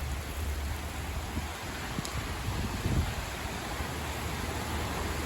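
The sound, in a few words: heavy rain falling by a river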